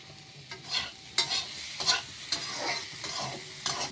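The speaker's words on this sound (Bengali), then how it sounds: "একটু ভেজে তারপরে ঝোল দেব।" Paneer curry fries in a pan while being stirred, producing rhythmic bursts of scraping and sizzling every half second or so over a soft background hiss, with no talking.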